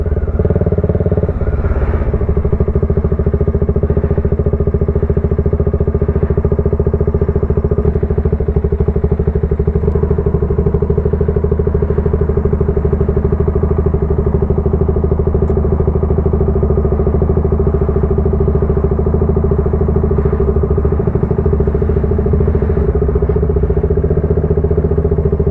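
A group of motorcycles rides along together on the way to an outing in Angono, Rizal. Their engines make a loud, steady drone that lasts the whole stretch, with small clatters and thumps on top and no clear talk.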